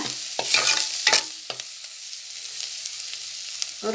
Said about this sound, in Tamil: இது கொஞ்சம் பச்சை வாசனை போகிறதுக்கு கொஞ்சம் எண்ணெயில் வதக்கிக்குங்க.